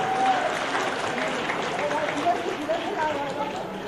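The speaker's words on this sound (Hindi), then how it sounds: "तालियां हो जाए" Studio audience clapping steadily at a Kaun Banega Crorepati press event after a contestant answers fastest, a dense continuous patter with light voices mixed in throughout.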